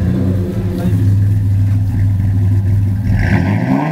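A 1988 Ford Ranger with a 2.9 engine and dual 40-series glass pack exhausts runs close by, giving a loud, steady, throaty idle rumble with a slight rev near the end, while someone speaks.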